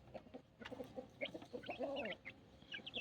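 Aseel hens and roosters, including yellow birds and young chicks, cluck and chirp close by in a short burst, with higher peeps over low throaty clucks.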